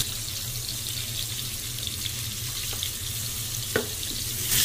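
Potatoes sizzle and fry in hot oil in a pan with five-spice seeds while a rui fish curry is being cooked, a steady crackling hiss with a few soft clinks, close and fairly quiet.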